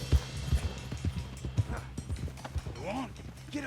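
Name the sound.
horse galloping, hooves clip-clopping, Red Dead Redemption 2 video game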